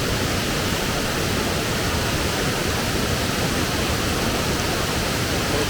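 Raven Cliff Falls, a mountain waterfall in South Carolina, pours in a loud, steady broadband roar heard up close, unbroken throughout with no voices.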